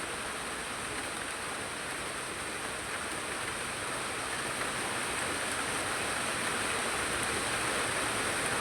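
Steady rain pours down through a day-long storm, a dense, even hiss that holds loud and unbroken for the whole stretch, with no voices over it.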